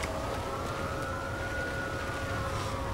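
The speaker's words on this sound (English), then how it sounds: "here comes the ambulance to take her to the hospital" A GTA IV ambulance siren wails steadily in a wintry game scene, sustained and fairly close under a constant background rumble, with no talking.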